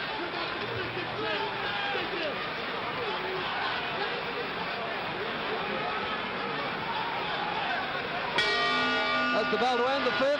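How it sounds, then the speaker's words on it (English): Boxing bell clangs at about 8.4 seconds to end the fifth round of the 1964 Cassius Clay vs Sonny Liston fight, ringing out with a sustained tone over a steady roar of arena crowd noise. "That's the bell to end the 5th."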